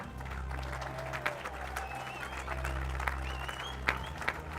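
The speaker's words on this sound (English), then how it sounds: "Another round of applause for the winners of the Men's Open Cockless 4, Sri Lanka Army." Steady applause from the crowd at a Sri Lanka rowing nationals award ceremony, honouring the winners of the men's open coxless four, with scattered louder claps over a constant low hum.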